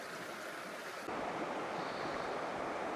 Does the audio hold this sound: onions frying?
no